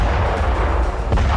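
Russian artillery striking Ukrainian positions in Zaporizhzhia: a sustained, loud, low rumble of heavy fire and blasts with no clear separate shots, no voices.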